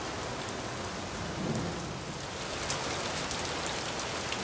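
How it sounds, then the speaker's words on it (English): Moderate rain falls steadily outdoors, a dense, even hiss of drops with faint crackles of individual impacts, continuous and fairly close, with no voices. "Yeah, we got a moderate rain."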